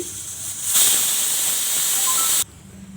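A pressure cooker whistle releases a loud, sustained hiss of steam that bursts out suddenly, holds steady for under two seconds, then cuts off abruptly.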